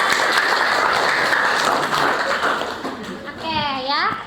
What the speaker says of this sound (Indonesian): Oke, terima kasih, tepuk tangannya.